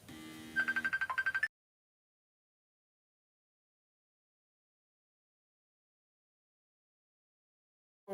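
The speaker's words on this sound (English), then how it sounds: "Phone is out here still making noises at her" A phone sets off a short burst of electronic tones: a low buzzing pattern, then a rapid run of higher beeps, all within about a second and a half before silence.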